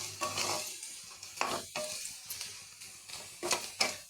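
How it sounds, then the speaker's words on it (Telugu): Spices frying in a pan as they darken to a reddish color, with a close sizzle broken by short, irregular scrapes of a spoon against the metal and no speech. "ఇలా రెడ్డిష్ కలర్ వచ్చే వరకు బాగా ఫ్రై చేసుకోండి."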